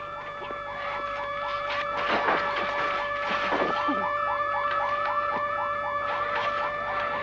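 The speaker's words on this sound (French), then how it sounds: "L'alarme est déclenchée." An alarm wails in a rapid, repeating warble, steady and moderately loud, with some background noise and faint knocks underneath.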